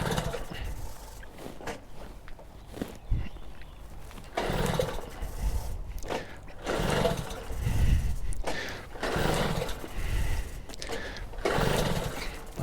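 A restored 1977 Peugeot 103 VS moped is kick-started without its stand and sputters into life close by. Its small two-stroke engine rises and falls in uneven, rasping surges.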